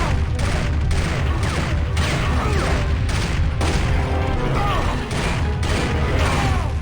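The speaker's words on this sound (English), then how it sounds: "Plasma rifle." Plasma rifle shots in Turok 2: Seed of Evil, rapid repeated energy bursts in quick succession with bright chirping tails, loud and close over a busy game soundscape.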